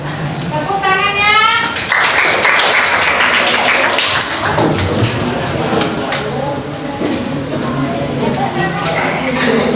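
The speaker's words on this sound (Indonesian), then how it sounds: "Tepuk tangannya." A classroom audience applauds after a group presentation, a dense burst of clapping from many hands that rises quickly and stays steady, with a teacher's voice heard just before it starts.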